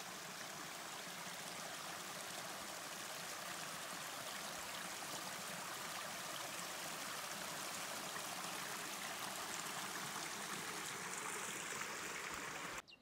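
Steady, gentle rush of a river flowing through a valley on Tasmania's Overland Track, continuous and even with a soft trickling texture, moderately close and without voices.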